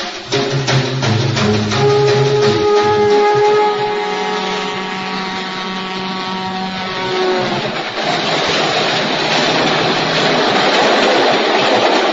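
A train rumbles past close by, loud and continuous, with a long droning horn-like tone early on that gives way to a broad clattering roar.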